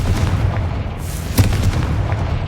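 A Confringo fire blast spell in Hogwarts Legacy erupts with a deep booming explosion over a rumbling low background, one sharp crack standing out midway.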